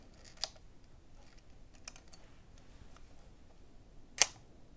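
The shutter of a copy of the 1930s Contax II rangefinder camera fires quietly. Two soft, crisp clicks sound a few seconds apart, the second a little sharper, against near silence with faint handling ticks between them.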